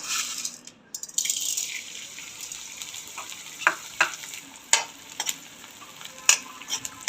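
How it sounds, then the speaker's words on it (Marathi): Pieces of edible gum (dink) sizzle as they fry in hot oil for dry fruit laddoos, a soft continuous crackle with occasional sharper pops and stirring clinks nearby, no voices. "आता आपण डिंक तळून घेऊया"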